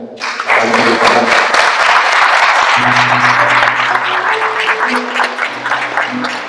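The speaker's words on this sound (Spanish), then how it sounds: "un gran aplauso para mi amigo" Dense audience applause fills a poetry recital hall, rising quickly and holding loud and steady, while a held musical tone and some voices sound underneath.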